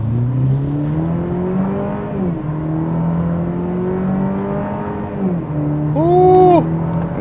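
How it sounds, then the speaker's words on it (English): Engine note of a 2026 Cadillac CT4 Premium Luxury rising steadily under acceleration on a highway in manual shift mode, with a dip at each upshift before climbing again, then a brief louder surge near the end. "open her up a little bit more, and see what she's got"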